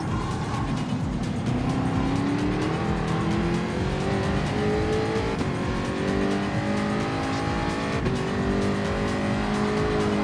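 Continuous loud race car engine in Gran Turismo 7, revs rising and falling through gear changes as the car accelerates out of bends, with occasional tire squeal and no voices.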